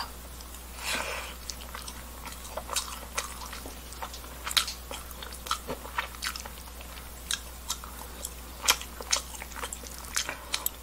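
Close, irregular chewing and soft squishy, crunchy bites come from someone eating braised mackerel with potatoes and rice, repeating steadily for about ten seconds with no talking.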